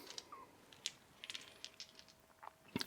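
Small dice are rolled, giving a handful of faint, scattered clicks and clatters against a hard surface over a few seconds, with a cluster of sharper taps at the end.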